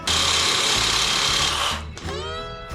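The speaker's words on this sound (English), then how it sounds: "we're gonna use the Sawzall again" A Sawzall reciprocating saw cuts off old trailer parts, a loud close buzzing burst that runs for under two seconds and then winds down, followed by brief ringing.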